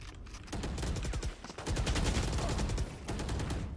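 Gunfire in a ranked Valorant gun game match: loud, rapid automatic bursts crackle almost continuously, with a brief dip in the middle before the shooting resumes, and no voices.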